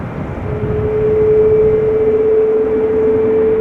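A Cargolux cargo plane departs Schiphol bound for Luxembourg, its engines rising into a loud, sustained roar with a steady whining tone that holds throughout.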